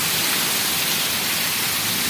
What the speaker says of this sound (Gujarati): આમ કાંઈ સામો હેઠો નથી દેખાતો એવો વરસાદ છે